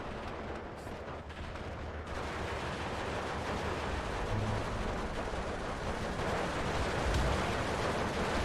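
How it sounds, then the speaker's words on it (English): A grenade detonates amid the dense, continuous rumble of battlefield gunfire and artillery in the World War II strategy game Steel Division 2, set in Karelia, with the blast buried in the steady roar. "they threw a grenade there"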